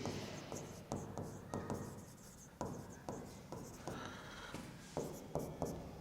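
Pen strokes scratch across paper as a date is written into a ledger table for a class 11 depreciation lesson, a series of short close scribbles in quick bursts with brief pauses, no talking.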